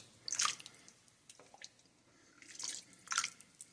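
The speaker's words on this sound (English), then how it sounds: "So just go ahead and scoop some of this out" Ham hock cooking liquid is scooped out of a pot of ham hocks and beans, giving soft wet slurps and drips in a few separate bursts, quiet and close.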